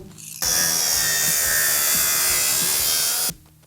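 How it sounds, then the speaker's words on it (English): An old radiator hose is cut with a power tool in a shop, a loud, steady high-pitched grinding whir lasting about three seconds, with faint rhythmic thumps underneath and quiet before and after. "I found this old piece of radiator hose that's been laying around my shop forever. And I'm gonna cut that."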